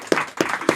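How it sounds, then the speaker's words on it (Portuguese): A live studio audience breaks into brief applause at a business talk, three close bursts of clapping in under a second. "palmas pro Léo e o pra mim."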